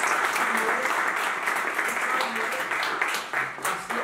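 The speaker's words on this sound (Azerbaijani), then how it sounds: "Gəlin bayrağımızı alqışlayaq həqiqətən ki." An indoor audience applauds the flag during a motivational talk, with dense, sustained clapping from many hands that holds steady for several seconds and thins slightly toward the end.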